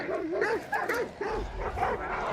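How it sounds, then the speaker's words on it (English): Several dogs bark and whimper in the video game Hunt: Showdown 1896, with repeated rising yips and barks that come in a steady rhythm and sit clearly over a low game background. "can these dogs shut the fuck up?"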